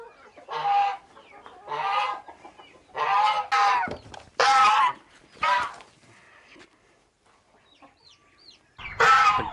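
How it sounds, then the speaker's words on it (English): Chickens cluck and squawk in a series of loud bursts, several birds calling close by one after another with short pauses between. "we're gonna go take care of these chickens real quick"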